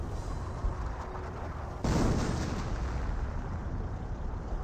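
An artillery barrage in Company of Heroes, the World War II strategy game, lands with a heavy explosion partway through, followed by a sustained rumbling roar of shelling.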